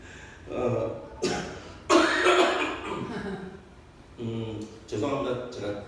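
Coughing from someone speaking to a church congregation, several short, harsh coughs and throat clearing in separate bursts, close and loud, with a gap in between.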